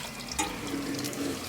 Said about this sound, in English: the water is actually running down from the upper layers into the bottom ones